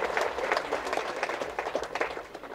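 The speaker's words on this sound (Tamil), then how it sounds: "உங்கள் கரகோஷத்தோடு எங்கள் நன்றியை நான் தெரிவிக்க வேண்டும் என்று ஆசைப்படுகிறேன்." An audience applauds at the audio launch of the Tamil film Jannal Oram, with dense, lively clapping from many hands that holds steady throughout and no speech over it.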